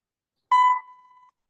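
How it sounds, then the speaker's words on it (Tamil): Computer alarm from a Python alarm program: a single short electronic beep tone, loud at onset then holding a thin steady pitch for under a second before cutting off, alone in silence. "அலாரம் ரிங் ஆயிடுச்சு"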